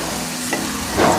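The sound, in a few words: garlic ginger paste sizzling with chicken in pan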